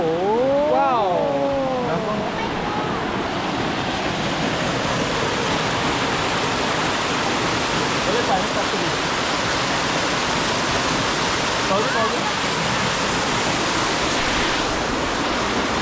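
A waterfall gives off a loud, steady roar of flowing water that fills the whole stretch, with a brief voice and whistle-like tones near the start.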